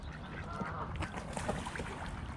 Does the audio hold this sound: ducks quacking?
yes